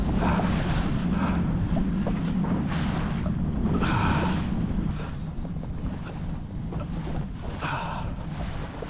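Fishing boat motoring across open water while chasing a hooked tarpon, a steady low engine drone mixed with wind buffeting the microphone and splashing waves, continuous with no talking.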